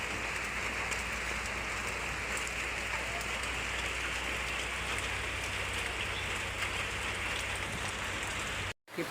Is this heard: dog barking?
no